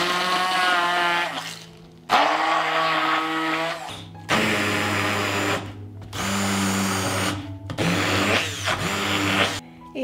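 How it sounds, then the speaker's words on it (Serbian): An immersion blender puréeing chicken pâté seasoned with lemon juice, salt and pepper. It gives a loud, close motor whine in several long bursts separated by short pauses, with the pitch shifting as the blade works through the mixture. "I na kraju ću sve usitniti štapnim mikserom."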